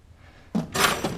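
A tool chest drawer slides open in a garage workshop during a Porsche 944 LS engine swap, giving a short thunk followed by a metallic rattling slide, close and alone without talk.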